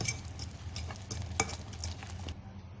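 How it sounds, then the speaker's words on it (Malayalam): A whisk blends elanchi batter in a bowl, making quick, repeated scraping and tapping strokes that are close and moderately loud. "നന്നായി കട്ടകളില്ലാതെ വിസ്ക് ഉപയോഗിച്ച് ബ്ലെൻഡ് ചെയ്തെടുക്കുക."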